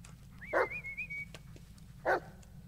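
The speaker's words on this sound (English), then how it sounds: "doggy." A dog barks twice in the Blair Witch video game, two sharp, close barks about a second and a half apart, with a thin whistling tone drifting after the first and no talking.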